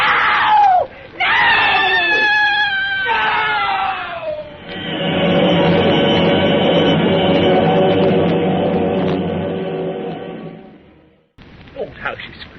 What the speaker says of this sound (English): Oh, how she screamed.